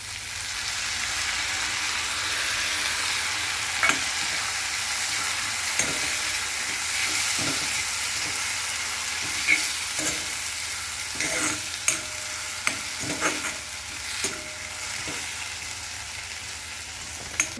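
Leftover dal tipped into a hot pan for kalna bhaji, sizzling and frying steadily while a spoon scrapes and knocks against the pan in scattered strokes, with no talking.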